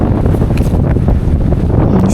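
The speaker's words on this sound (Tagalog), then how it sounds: "Feel na feel ko siguro yung hangin dyan, no?" Strong wind buffets the microphone on a muddy, slippery mountain traverse trail, a steady loud broadband rumble that continues for the whole stretch without breaks.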